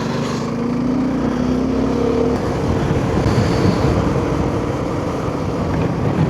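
A Suzuki V-Strom 250 motorcycle rides along a forest road in the BR Hills during monsoon, its engine a steady loud roar blended with constant wind rush.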